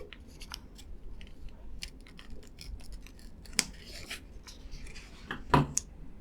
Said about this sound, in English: you have a very small slit here that you can just cut open